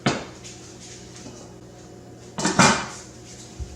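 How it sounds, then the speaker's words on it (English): A pot of apple cider vinegar set onto a stove, a knock at the start, quiet room hum, then a louder metallic clunk and scrape as it lands, followed by a soft tap, close with no talk. "I'm going to put this on the stove"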